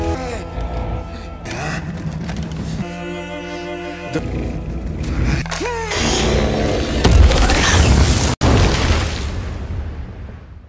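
A big explosion in the mine-set creature film The Deep Dark erupts as a building roar that swells into a loud, broad blast, preceded by tense, droning score and rumbling effects, then cutting to quiet.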